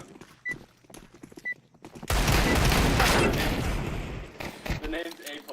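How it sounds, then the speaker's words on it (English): A burst of rapid video game gunfire erupts midway, dense and loud, after a stretch of quieter clicks and thumps, during a competitive shooter match. "I can't hear you over the gunfire"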